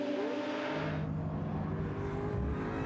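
GT Cup race cars at Snetterton circuit heading down the straight, a loud sustained engine roar with droning harmonic tones that shift in pitch as a car passes, with no commentary voice.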